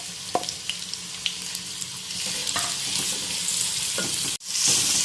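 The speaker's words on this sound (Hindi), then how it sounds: "अब हम इसके अंदर 4 स्लाइसेस में कटे हुए प्याज ऐड करेंगे" Sliced onions frying in hot oil for haleem give a continuous crackling sizzle with occasional sharper pops and stirring clatters, close and fairly loud, with a brief break near the end.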